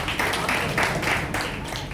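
Audience applause at an Arya Samaj gathering, a steady wash of clapping from a crowd that holds for the full two seconds, moderately loud and fairly close.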